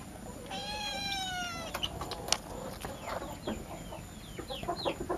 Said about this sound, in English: Who's purring? That's you. And you. You're both purring.